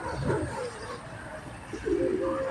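Pigeons coo softly in a couple of low, rounded calls over faint background noise, close by and without talk.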